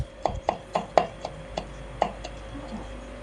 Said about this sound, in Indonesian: kita haluskan dengan cara diiris-iris seperti ini